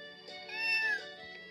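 A recorded cat meow from a VTech Genius Kid toy laptop's animal quiz, one drawn-out electronic miaow swelling and fading, with a faint steady electronic hum beneath.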